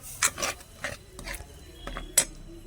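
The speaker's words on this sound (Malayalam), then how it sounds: "അത് നല്ലതായിട്ടൊന്ന് ഇളക്കിയെടുക്കാം" Curry being stirred in a pan after water is added, with several scraping, rubbing strokes of a spoon against the metal at an uneven pace, close and fairly quiet.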